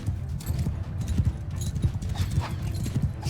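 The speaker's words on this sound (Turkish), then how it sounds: "Atların ayak seslerini işitebiliyorum." Horse hoofbeats clatter in a steady, busy clip-clop throughout a Mount and Blade II: Bannerlord battle, fairly close and loud, with a faint neigh in the mix.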